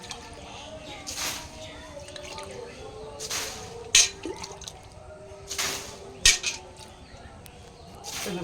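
Plant leaves get wetted with water in several separate hissing sprays, each a short burst, spaced a couple of seconds apart, with quiet background noise between them.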